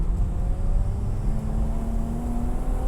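A modified BMW 335i E90 drones steadily at speed on a race track, its engine note holding a continuous low hum with faint tonal whine and wind rush, with no distinct shift break standing out.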